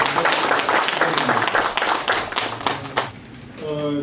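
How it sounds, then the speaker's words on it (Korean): Audience members at an academic conference clap for a speaker, close and fairly loud with distinct individual claps that thin out and fade after about three seconds, followed by a brief tonal sound. "김봉호 선생님 박수 부탁드립니다"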